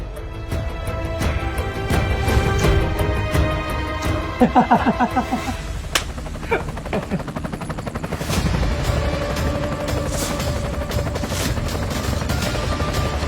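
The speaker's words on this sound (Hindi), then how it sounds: "अरे ये तो करोड़ों का हेलीकॉप्टर है" A loud, dense mechanical roar of a helicopter runs throughout, with rapid thudding bursts and booms layered on top. No one speaks.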